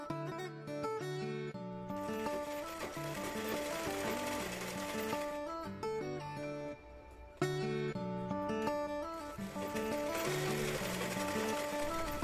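A sewing machine double-stitches tucks on a katori blouse in long continuous runs of rapid mechanical whirring, close and loud, broken by brief pauses before restarting.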